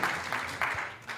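A small group claps for the second-place team at a contest finale, in short uneven bursts of moderate loudness rather than a sustained ovation.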